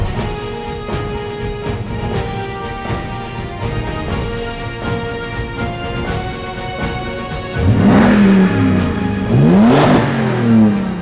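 A 2020 Toyota TRD Pro SUV drives with a steady engine hum under background music, then revs up loudly with rising pitch in two strong accelerations near the end.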